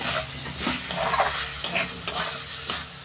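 Fish head and cabbage are fried with ground spices in a pan, a steady sizzle running throughout under repeated scraping strokes of a spatula, close and fairly loud, without any voices.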